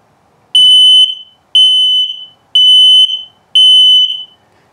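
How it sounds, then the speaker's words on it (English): A combined LP gas and carbon monoxide detector in a 2023 Sunset Trail 253RB RV sounds its test alarm: four loud, shrill electronic beeps, about one second apart, with nothing else in the background. "I'll let you hear it going through the tests here. LP is good, carbon monoxide coming up."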